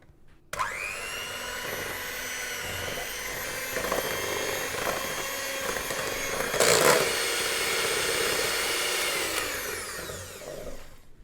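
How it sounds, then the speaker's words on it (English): An electric hand whisk whirs steadily while mixing icing sugar, a continuous high motor whine with a shifting tone as it beats, briefly louder partway through before switching off near the end. "I'm actually going to use the electric whisk"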